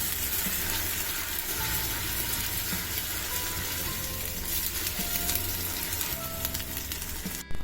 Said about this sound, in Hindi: इसको भी इस प्याज के साथ 2 मिनट तक भूनती हूँ।